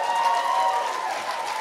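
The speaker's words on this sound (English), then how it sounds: "give yourselves a huge round of applause" A large audience at a University of Sheffield varsity event gives a steady, dense round of applause with a faint tonal hum beneath it.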